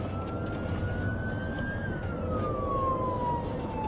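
A police siren sweeps in a steady wail over road and engine noise during a pursuit, rising in pitch and then falling, loud and continuous throughout.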